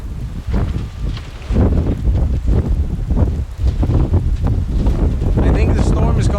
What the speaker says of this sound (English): I can even hear the rain, so it's gotta be quite a lot.